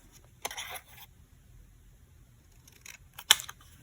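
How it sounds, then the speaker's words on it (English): Scissors cut a vellum border in two short, crisp snips spaced a few seconds apart against near silence. "So cut a border of vellum down here"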